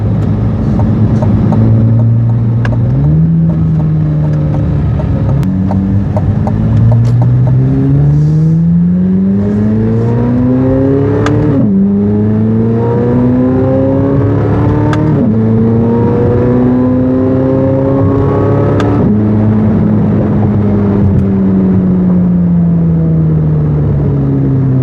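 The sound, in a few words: 2023 Chevrolet Corvette Z06 engine revving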